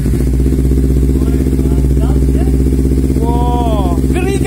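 A motorcycle aftermarket exhaust rumbles loudly and close up in a steady, throbbing idle, with a voice speaking briefly over the engine.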